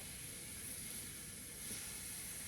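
Sliced mushrooms for plant-based bacon sizzle in hot oil in a pan, a steady, faint, even hiss that stays constant throughout with no talking.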